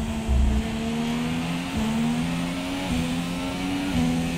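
A Formula 1 car in the F1 2017 racing game, on the Austria circuit, wails at full throttle. Its high engine note climbs and snaps through quick upshifts as it accelerates hard.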